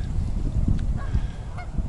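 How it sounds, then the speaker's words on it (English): A flock of geese honking repeatedly at Sspopiikimi over a low, rumbling outdoor background, calls overlapping at moderate distance. "Look at all of these geese at Sspopiikimi."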